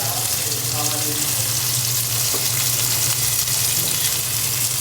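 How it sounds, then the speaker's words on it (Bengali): Food fries in butter in a pan at a rooftop picnic, giving a loud, continuous, close sizzle with a low steady hum beneath it. "চামচ বাটার দিয়ে ভাজলে আরও আস্তে আস্তে করে উল্টাই দিতে হবে"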